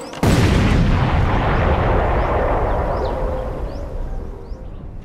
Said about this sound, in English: Another mine joins the many tens of thousands already destroyed